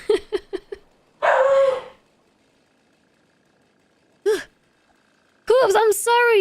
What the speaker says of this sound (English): your dog's barking at my dog